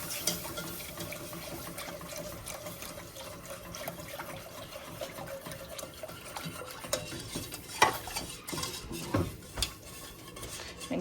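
Evaporated milk stirred into seasoned flour in a pot for baked mac and cheese, with a quiet, continuous swishing and scraping of the utensil against the pot and occasional louder knocks near the end.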